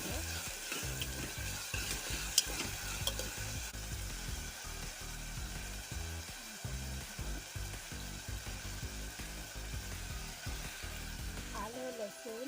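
Tomato and onion sautéing in a pan for a wedding-style brinjal and potato curry, a continuous soft sizzle with repeated low scraping and stirring knocks, fairly quiet and close.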